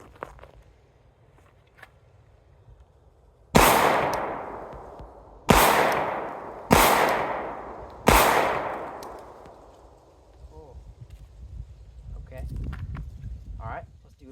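Four sharp handgun shots ring out at a shooting drill, spaced roughly one to two seconds apart, each loud crack trailing off in a long echoing decay, followed by faint shuffling and handling noise.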